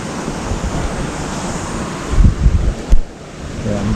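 Swollen San Gabriel River in Central Texas after a flood, a steady broad rush of fast-moving water with heavy wind buffeting on the microphone and a couple of louder gusts, no voices.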